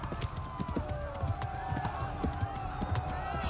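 Horse hooves gallop in rapid clip-clop rhythm in the medieval video game Kingdom Come: Deliverance, steady and fairly close, with someone talking over the running.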